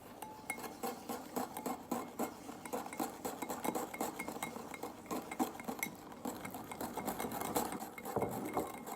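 A utensil stirs cream and sugar into the beaten filling mixture for a strawberry and rhubarb crumble tart. It makes a quick, continuous rhythmic clinking and scraping against the bowl, close up, with no talking.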